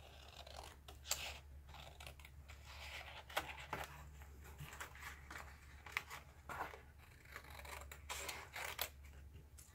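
Maped scissors snip repeatedly through paper, a series of short crisp crunching cuts at an uneven pace, close and fairly quiet over a low steady hum, with no talking.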